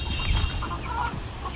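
Chickens cluck close by in short, overlapping calls over a constant low background hum.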